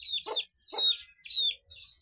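A chicken clucks close by in a repeating series of sharp, high, squawky calls with short gaps between them, with no talking.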